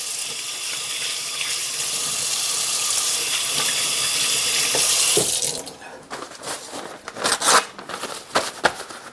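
Running tap water splashes steadily over hands being washed with bleach water and soap at a kitchen sink, loud and continuous for about five seconds, then broken into uneven splashes and rubbing as the flow is interrupted.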